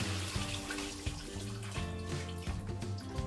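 Tap water runs steadily while items are washed at a kitchen sink, a continuous near splashing stream with no voices.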